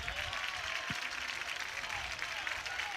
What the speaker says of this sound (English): Pirates fans cheering on their star pitcher today.